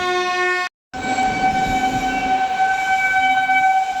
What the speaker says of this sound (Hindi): पीछे से आ रही है गया अमृत भारत एक्सप्रेस जो इस ट्रेन को ओवरटेक करेगी